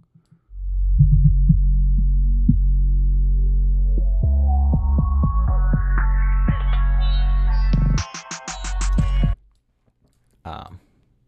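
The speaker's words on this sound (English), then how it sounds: "It's really just sweeping from these low frequencies to these high frequencies up here with this big curve on there." A filter sweep in Logic Pro 9 opens a sustained synth tone from muffled lows to bright highs over about eight seconds. A short rhythmic stuttering passage and a brief bright burst follow, with no talking.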